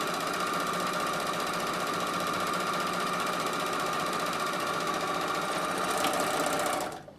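A Bernina overlocker runs steadily, stitching two rows through fabric with a fast, even mechanical whir close by, then stops abruptly near the end.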